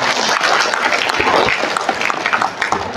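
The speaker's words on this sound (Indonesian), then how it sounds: "Tepuk tangan untuk Pak Purwanto." A crowd applauds in a dense, continuous burst of clapping that holds steady for a few seconds.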